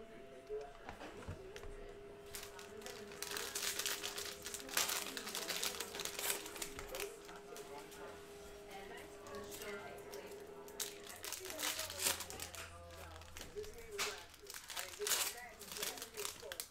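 A cellophane-wrapped pack of 2020 Mosaic NFL trading cards is torn open, with crinkling wrapper and sharp tearing bursts near the microphone and a voice talking through parts of it.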